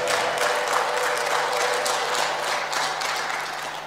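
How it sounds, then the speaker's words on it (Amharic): A church congregation claps steadily and ululates together, a loud, dense wash of applause and high trilling voices that holds for the whole stretch. "እልልታ ጨብጨባ ለጌታ"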